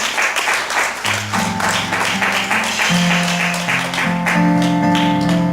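A church congregation clapping for the King, loud continuous applause throughout, accompanied by sustained organ or keyboard chords that shift pitch beneath the clapping.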